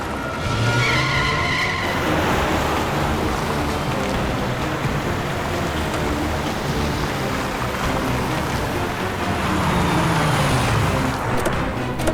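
A golden getaway car skids hard during a police chase in a Hindi crime drama, its tires screeching loudly and continuously over a roaring engine, with no talking.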